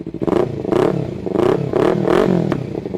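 A 2015/16 Kawasaki Z300 ABS naked motorcycle revs close by in a series of quick throttle blips, each rising and falling in pitch, loud and rhythmic without any talk.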